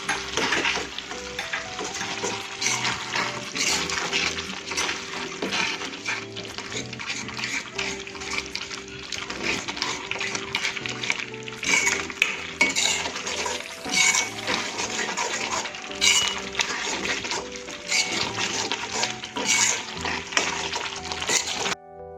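Cheesy paneer gotala is stirred in a pan, sizzling and scraping in a steady, busy texture for about twenty seconds. The cooking sounds are close and fairly loud, with a continuous musical background running underneath.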